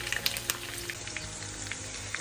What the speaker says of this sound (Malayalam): നമ്മുടെ ചിക്കൻ ഇവിടെ നന്നായിട്ട് ഫ്രൈ ആയി വന്നിട്ടുണ്ട്